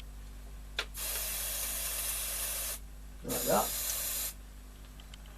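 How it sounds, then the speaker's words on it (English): Aerosol spray hisses in two bursts onto the mechanism of a Fidelity Playtime tape recorder, each lasting a second or two, close and fairly loud, with a brief voice between them. "next thing we do is get the old magic spray"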